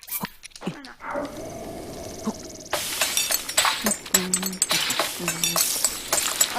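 Cooking in Zelda Breath of the Wild, a short clatter and shattering clink followed by rhythmic chiming tones and sizzling pops over a steady bed of sound.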